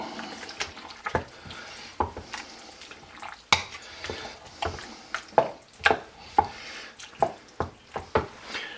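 Crushed tomatoes being stirred into a bison bolognese in a pot, a run of wet scraping and clacking strokes at an uneven rhythm, close and fairly loud, with no talking.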